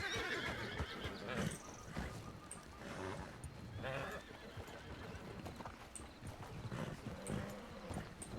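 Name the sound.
horse neighing, from a video game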